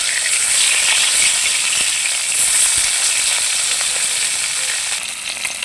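Fish heads fry in hot mustard oil in a wok, giving a loud, continuous crackling sizzle with no voices.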